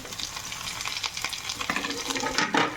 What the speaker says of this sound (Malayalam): ഇത് നന്നായിട്ടൊന്ന് വഴറ്റിയെടുക്കണം ഇതിലേക്ക് നമുക്ക് അരിഞ്ഞു ഒരു തക്കാളിയും കൂടെ ചേർത്ത് കൊടുക്കാം